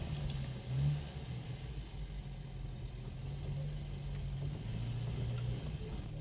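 A classic Ford car's engine runs at a low, steady hum from inside the cabin, with a brief swell in revs early on and a gentle rise in pitch later, quiet and unbroken by speech.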